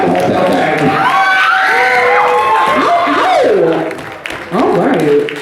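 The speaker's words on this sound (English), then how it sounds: "Give it a round of applause. You can make noise in here, guys." Excited crowd cheering at a ball performance, with whoops, shouts and scattered clapping mixed with voices calling out, loud and close, dipping briefly before surging again.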